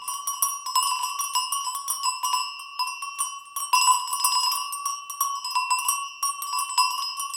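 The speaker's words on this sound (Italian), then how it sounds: "E questo è il suono" Several sheep bells (campanacci) ring together in a dense, continuous jangle, each bell with its own pitch, clanking irregularly and fairly close with no voices.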